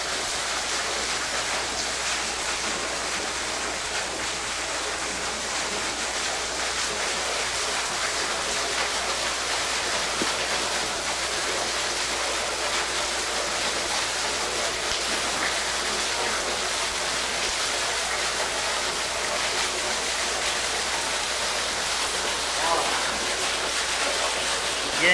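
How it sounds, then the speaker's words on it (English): A waterfall near a Buckeye cave in Burr Oak State Park pours steadily, a broad, even rushing hiss that holds unchanged throughout, moderately close and with no voices. "a pretty waterfall"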